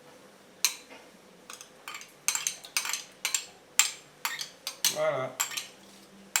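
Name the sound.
scraping cream out of a bowl with a spoon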